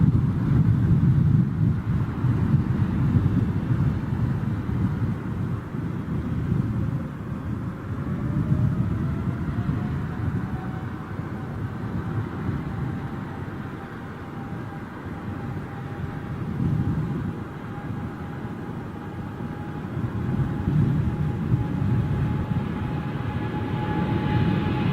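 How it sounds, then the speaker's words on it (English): An Air Canada jet's engines spool up into a steady, rumbling roar with a rising whine, heard from a distance outdoors with some wind noise and no talking. "Here we go for the big spool up."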